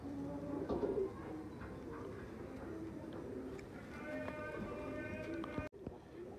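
A male Kala Nag breed pigeon coos softly in short repeated phrases, with someone talking nearby and faint rustling and ticking around it.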